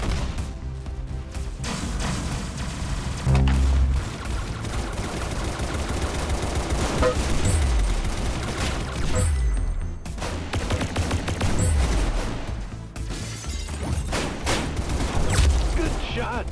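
Gunfire from the Roblox game Arsenal rattles in dense bursts and rapid single shots throughout, loud and continuous, with players' voices mixed in among the shooting.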